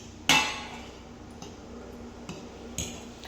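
A fork stirs steamed food in a pot with one sharp metallic clink followed by a few fainter taps and scrapes, close and isolated.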